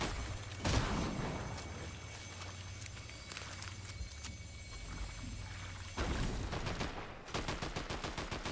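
Bursts of rapid automatic gunfire in a competitive shooter video game tournament match, with a loud spray early on, scattered shots and footstep-like clatter in the middle, and a fast regular burst at the end.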